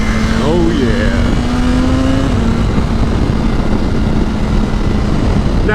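A stock 2021 BMW S1000RR superbike, rated at 200 horsepower, rides through a turn; its engine hums loud and steady under heavy wind rush, the pitch briefly dipping and then holding level.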